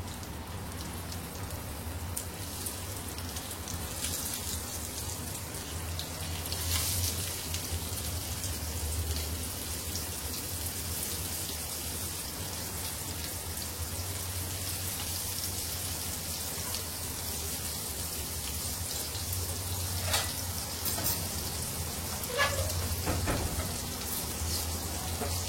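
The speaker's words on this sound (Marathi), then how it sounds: "तेल गरम करायचं आणि स्लो गॅसवरती मच्छी फ्राय करायची।" Fish frying in hot oil over a low gas flame, a steady dense sizzle and crackle with occasional sharper pops, holding at an even level throughout.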